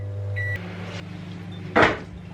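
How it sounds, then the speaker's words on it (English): A microwave oven hums as it heats mug cake batter, then stops with a beep, followed by a short loud clatter or door sound. "I'm gonna put this in the microwave for 50 seconds and then we'll see."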